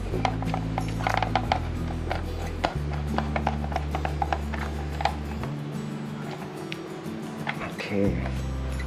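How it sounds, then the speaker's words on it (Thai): A ratchet tool clicks in quick, repeated strokes as bolts are tightened to fit a rear rack on a Yamaha XSR155 motorcycle, heard close over a steady background hum with some speech. "ใส่ให้ตรงรูแล้วก็หมุนยึดได้เลยครับ"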